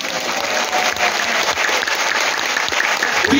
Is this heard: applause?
yes